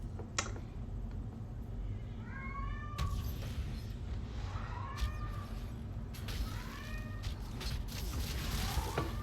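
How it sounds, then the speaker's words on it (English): A house cat meows several times in short rising calls, fairly close, against a quiet room with faint keyboard clicks. "I don't know if you guys can hear my cat"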